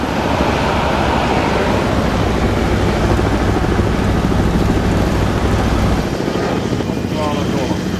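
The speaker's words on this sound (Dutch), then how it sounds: "Helikopter!" A helicopter thunders nearby, loud and steady with a pulsing rotor throb that drops away abruptly near the end, while voices can be heard over it.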